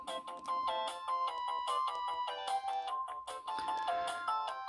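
A chiptune-style melody plays from a mobile game on a 2006 Sony Ericsson W810i phone, a quiet, bright, beeping tune of quick notes with no sound effects and no voices.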